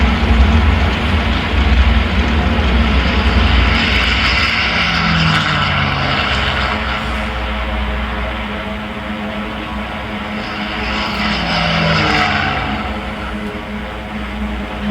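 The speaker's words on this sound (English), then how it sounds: "Nagumo turned his carriers into the wind and launched his planes." Military propeller aircraft taking off from aircraft carriers in a Pearl Harbor attack setting, a loud sustained engine roar with low droning throb that swells and recedes as planes pass, continuous and close with no talk.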